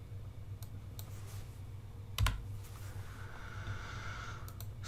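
A few faint computer mouse clicks come as single sharp ticks scattered through a quiet room with a low background hum, alongside a soft breath or sniff and no talking.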